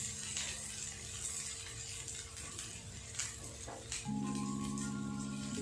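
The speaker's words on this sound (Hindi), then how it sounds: "और प्याज को अच्छी तरह से भून लेंगे" Onions fry with mustard seeds and urad dal in a pan. The sizzle is faint and steady, with some light stirring scrapes, and a tonal hum rises near the end.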